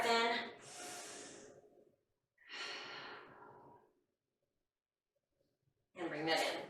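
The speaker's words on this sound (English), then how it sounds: "Deep breath in." A deep, slow inhalation and exhalation during a post-workout stretching session: two long, soft breaths close to the mic separated by a short pause, then a sharper breath or snort after a longer silence.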